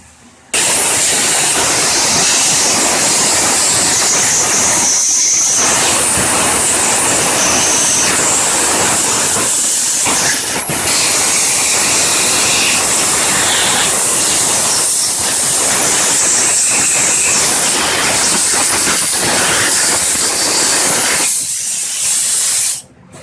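Compressed air blasts through a cleaned Craftsman lawn mower carburetor in one loud, continuous hiss that runs close and steady for over twenty seconds, with only brief dips in pressure.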